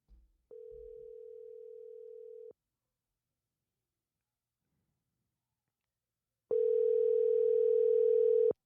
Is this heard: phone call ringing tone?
yes